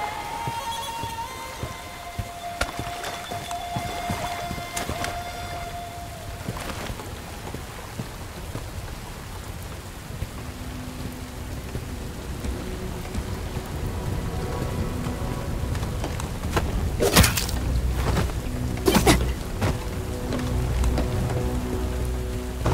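Steady rain in the Bright Memory: Infinite video game, a dense continuous patter with scattered tonal game sounds and a couple of sharp bursts late on, no voices.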